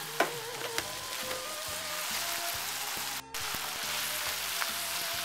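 String beans sizzle steadily in a hot pan with oyster sauce for chow mein, a continuous frying hiss broken by a few sharp crackles and one brief dropout, with no talking.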